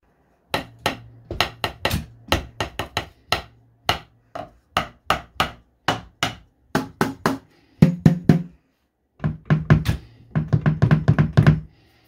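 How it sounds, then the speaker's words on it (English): Sharp drumstick strikes land on the rubbery cymbal, tom and kick pads of an electronic drum kit in irregular rhythms, some with a low kick-hammer thump beneath, close and dry with no talking. "there is still the noise produced from physically striking the cymbals, toms and kick pad, with drumsticks and kick hammer"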